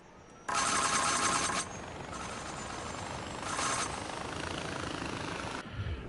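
A helicopter in the video game Far Cry 4 gives off a loud, steady rotor and engine roar that surges twice, then settles into a continuous droning rush.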